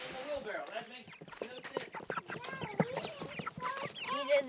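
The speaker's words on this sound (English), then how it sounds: "these are the chickens" Several chickens cluck and chatter close by, a busy jumble of short calls with a few higher squawks, steady throughout.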